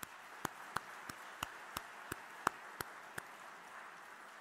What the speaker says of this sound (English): Could we give them a thank you round of applause?